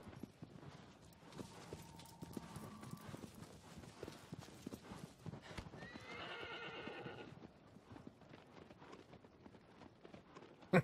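A horse's hooves beat steadily in the video game Shadow of the Colossus while the horse gives a clear whinny midway, with game ambience underneath and no talk.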